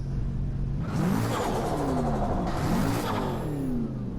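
The Koenigsegg Regera in the Driveclub racing game revs hard twice, its engine note sweeping up in two loud, close, rising surges.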